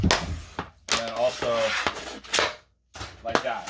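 A Warrior Ritual M2i hockey goalie stick, cracked and broken, knocks against a puck in several sharp, close wooden strikes spread between bursts of someone talking.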